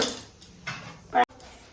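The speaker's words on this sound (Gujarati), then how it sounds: "જો આપણે તો વાસણ ધોરાય છે" Dishes and utensils, including a school water bottle, clink and knock together amid running water as they are washed by hand, with a louder clatter near the end, close by.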